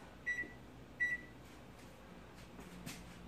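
A microwave oven being switched on gives two short electronic beeps close by, followed by a low steady hum and a few faint handling clicks.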